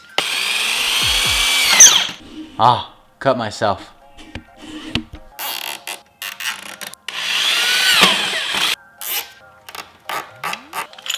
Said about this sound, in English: So I'm going to drill a few holes through the crate.